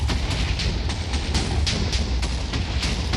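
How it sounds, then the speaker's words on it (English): TNT blocks going off in a video game: a dense, continuous rumble packed with rapid, overlapping blasts, heard loud and close without speech. "I might be a little bit close to all the explosions and stuff."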